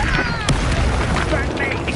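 A Repulsor spell blast in the Hogwarts Legacy video game gives a short, punchy boom amid spell combat, with a voice calling out spells over it.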